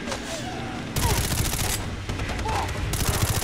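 Rapid automatic gunfire in the video game Far Cry 3, bursts of shots crackling loud and continuous after a brief lull, with dense repeated reports and faint voices underneath.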